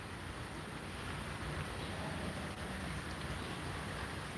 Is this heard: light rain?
yes